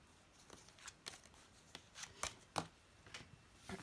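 A deck of Power Animal Oracle cards being shuffled by hand, soft papery riffles and light flicking ticks, faint and close in a quiet room, irregular over a few seconds.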